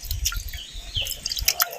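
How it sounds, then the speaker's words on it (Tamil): Thick ragi (finger millet) porridge poured into a small clay pot, giving close, wet drips and soft squishy plops in an uneven run with no voices. "கூழை எடுத்து சின்ன மண் சட்டியில் அப்படியே சேர்த்துருவோம்"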